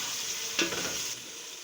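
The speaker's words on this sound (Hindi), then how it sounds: "सब्ज़ मिर्चें डाल देंगे। अच्छी तरह फ्राई होने देंगे ऑयल में।" Green chillies sizzling in hot oil for beef pulao, a steady bright frying hiss with a brief louder burst as they hit the pan, close and alone.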